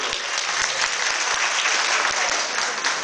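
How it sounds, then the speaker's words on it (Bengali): Audience at a cantonment music event applauds the school's instrumental performers, a loud, sustained and even round of clapping filling the whole stretch. "তো একটু সবাই একটু করতালি এদের জন্য।"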